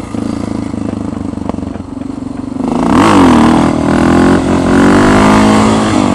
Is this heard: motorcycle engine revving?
yes